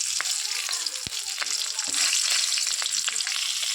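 Panch phoron whole spices and green chili frying in hot oil for a light curry with ridge gourd and potato, a steady bright sizzle with scattered small pops and crackles, close and continuous throughout.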